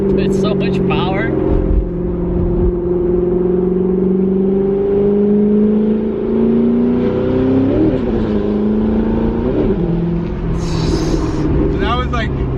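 A powerful car engine roars as it accelerates, its pitch climbing through gears with brief shifts, recorded close from inside the car.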